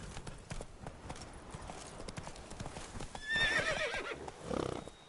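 The horse Roach from a video game gallops in a quick, rhythmic clatter of hoofbeats, then lets out a loud neigh and snort near the end, with no talking.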